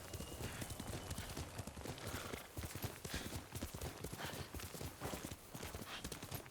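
Horse hooves gallop in quick, rhythmic clip-clops, close and steady and partly mixed with a faint whinny, in the video game Ghost of Tsushima.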